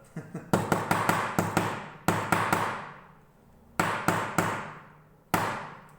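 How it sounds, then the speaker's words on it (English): Sharp hammer blows drive frets into a mountain dulcimer fretboard in quick clusters, several rapid hits then pauses, each ringing briefly; loud and close with no talking. "Or just a good smack with a hammer."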